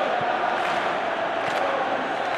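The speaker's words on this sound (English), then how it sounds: "Well, the crowd clearly liked what they just saw." A stadium crowd in the video game eFootball 2022, during a Napoli vs Fiorentina Serie A match, gives off a steady, dense roar of cheering that holds at an even level throughout.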